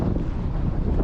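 Strong wind buffeting the microphone on a lake during early spring bass fishing, a loud continuous rumble with gusting roar.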